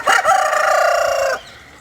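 A rooster crows once, long and loud and close, among mixed-breed chickens including Transylvanian naked necks and Rhode Island Reds, then fades into faint background clucking.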